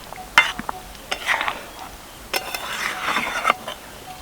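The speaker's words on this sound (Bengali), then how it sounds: "এবার ভালো করে সব কিছু মিশিয়ে নেবো" A spatula scrapes and clinks against a pan as a vegetarian neem flower dish with ghee is mixed with the heat off, giving intermittent close stirring scrapes and light metallic taps.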